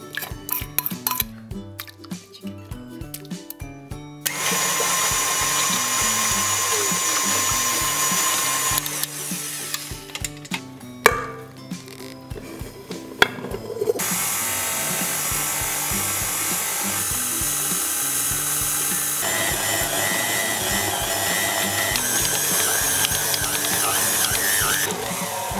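A stand mixer kneads croissant dough with a dough hook, giving a steady motor whir with rattling, knocking passages that change character as it runs, and no voices.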